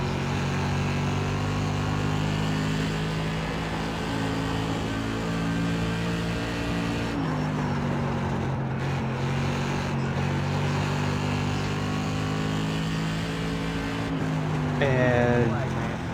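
A late model stock car engine drones steadily at high throttle in iRacing, a sustained loud buzzing roar that dips briefly around the middle and swells again near the end, with a voice speaking over it.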